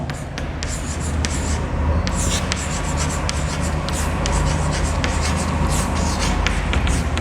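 Pen or marker scratching across paper or a board while a matrix definition is written out by hand, a steady run of short strokes and taps close by over a constant background hum, with no talking.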